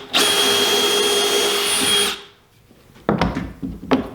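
A drill bores a pocket hole through wood in a Kreg jig, a loud steady high whir for about two seconds that stops abruptly, followed by a few clunks and knocks as the jig and workpiece are handled.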